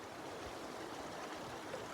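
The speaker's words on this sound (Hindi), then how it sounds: "इस पानी की आवाज़ बहते हुए" Glacier-fed mountain stream in a winter valley flowing steadily, a broad continuous rush of water with no pauses, close and even throughout.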